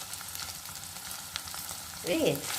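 Tomato puree poured into a hot pan with green chillies and curry leaves, frying steadily with a soft sizzling hiss that swells into a louder, bubbling burst near the end, with no talking.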